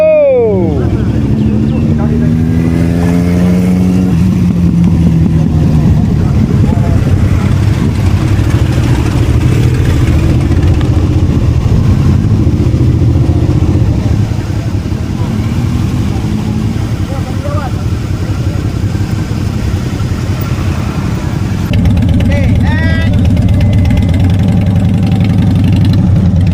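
Several motorcycle engines idle and rev together in a loud, continuous drone, with one engine revving up sharply at the start and another near the end.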